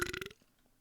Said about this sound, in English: first of all, big old burp